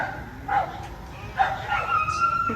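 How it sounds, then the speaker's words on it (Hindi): A dog yips and barks a few times at some distance outdoors, the short whimpering calls standing out over a quiet background. "कुत्ते का आवाज़ आ रहा है उधर से।"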